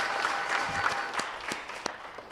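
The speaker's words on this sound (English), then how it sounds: "Let's have a round of applause for the mayor, Mayor John McCormick, a great mayor" A room full of guests applauds steadily for a mayor at a 90+ birthday celebration, a dense wash of clapping hands with a few sharper claps near the end and no talk over it.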